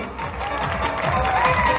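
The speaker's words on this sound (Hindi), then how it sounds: "जोरदार तालियां" Brief burst of loud crowd applause and cheering at a community gathering, dense continuous clapping from many hands close by for under two seconds.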